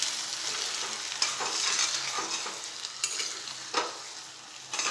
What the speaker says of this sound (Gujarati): હવે એકદમ સ્લો ગેસ રાખીને હળવા આ રીતે મિક્સ કરી દઈશું આપણે।